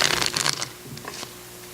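A deck of playing cards is riffle-shuffled at a talent show, a quick burst of close, crisp fluttering card snaps that fades into a couple of softer taps against quiet room noise.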